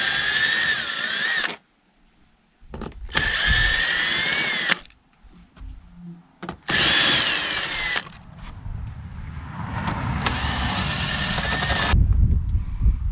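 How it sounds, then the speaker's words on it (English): A cordless drill with a 9/32 bit backs out screws from a Ford F150 cargo light, whirring in three long bursts separated by brief pauses, up close and loud with no talking. "I prefer using a cordless drill with a 9/32 bit on the end."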